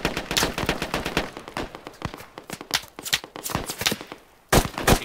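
Rapid bursts of automatic gunfire and single shots in the military shooter Squad during a firefight, dense and loud, with a brief lull before a sharp closing burst.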